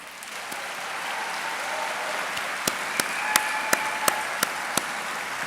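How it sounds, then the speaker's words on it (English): Steady applause from a commencement audience at a medical college graduation, honoring the graduates' parents, with a few sharper claps standing out near the end. "So could I have the parents of the graduates raise your hands and give a round of applause for them?"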